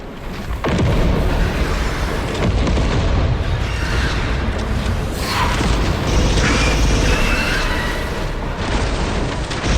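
A grenade blast in the sci-fi shooter Alien Rogue Incursion, a loud sustained boom that rolls on heavily for the whole stretch, with dense low rumble and crackling debris under the battle.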